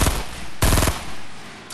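Gunfire in the battle royale game Fortnite: loud, close bursts of rapid automatic shots, one at the start and a second sharp volley midway, with fading echo between and no talking.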